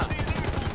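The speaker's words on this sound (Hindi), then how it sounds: "अरे हेलीकॉप्टर गोलियां मार रहा है।" Rapid gunfire from a police helicopter in GTA V, a dense continuous burst of shots over rotor-like droning throughout the short moment.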